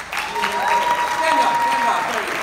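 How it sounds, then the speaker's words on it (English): An audience applauds a guest at a morning show event in Goa, a dense, steady burst of clapping from many hands, close and loud, with some crowd murmur mixed in. "One more hand for our good friend Adetola."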